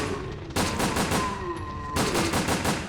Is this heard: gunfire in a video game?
yes